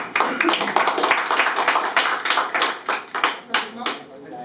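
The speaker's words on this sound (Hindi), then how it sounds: "जोरदार ताली।" Audience at a communication talk giving loud applause, many hands clapping in rapid, uneven bursts that thin toward distinct claps at the end.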